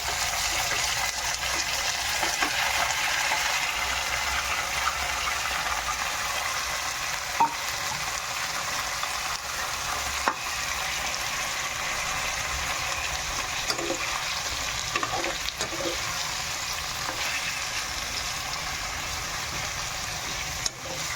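Marinated chicken fries in a pan with a steady, close broadband sizzle while a utensil stirs it, occasional scrapes and clicks poking through, with no voices.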